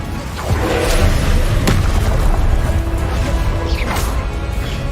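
The Incendio fire spell blasts in the video game Hogwarts Legacy, giving a loud, steady rush of whooshes and booms with sharp impact thuds scattered throughout.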